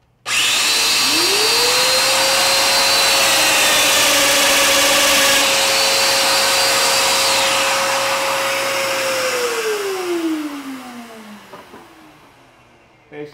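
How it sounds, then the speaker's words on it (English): A Festool Domino 500 joiner spins up loud and steady with a rising whine as it plunges a mortise for a 3/4-inch butt joint, holding a constant motor tone for several seconds before winding down with a falling pitch. "I've got the domino set at 20 millimeters, which means the middle of the bit is at 10 millimeters down."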